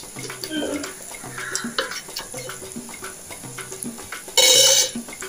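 Onions with salt, turmeric and red chilli being stirred and sautéed in a pan for egg bhurji, a steady scraping sizzle with rhythmic utensil scrapes and a brief louder splash of sizzling near the end.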